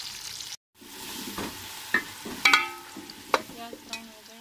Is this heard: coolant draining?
no